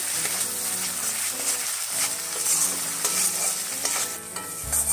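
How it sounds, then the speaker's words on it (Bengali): Masala spice paste with tomato paste being stirred and fried for Bengali chingri malai curry, a steady close sizzle with repeated scraping strokes of the spoon through the pan for the whole stretch, no talking. "এবার এই মশলাটাকে আমি ভালোভাবে একটু নাড়িয়ে চাড়িয়ে কষিয়ে নেব।"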